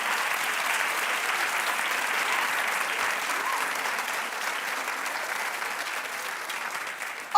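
Steady, dense applause from a studio audience fills the whole stretch at even loudness, a continuous wash of many hands clapping together with no talk over it.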